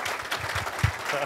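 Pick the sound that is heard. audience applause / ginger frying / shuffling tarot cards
audience applause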